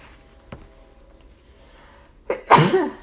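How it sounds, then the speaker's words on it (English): A single loud, close sneeze bursts out near the end after a quiet stretch, preceded by a brief sharp intake of breath. "about to sneeze"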